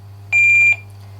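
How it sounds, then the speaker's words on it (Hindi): A quiz show contestant's buzzer on a junior general-knowledge quiz, one loud steady electronic tone lasting under half a second, standing alone over a low background hum. "कंटेस्टेंट नंबर 3 किफा ने बजर प्रेस किया है"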